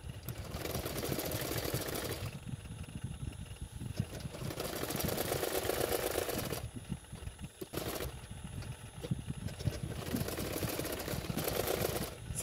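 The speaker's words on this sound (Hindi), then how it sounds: "अस्तर का फैब्रिक के किनारे किनारे पे सिलाई कर लूँगी।" A sewing machine runs in bursts while stitching along the edges of blouse lining fabric, steady mechanical whirring with short pauses between runs, close and moderately loud with no talk.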